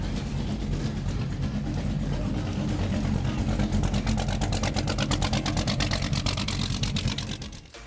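Single-engine offshore race boat at a Miami poker run, its engine giving a steady, loud low rumble that holds throughout before easing off at the end, with faint voices in the background.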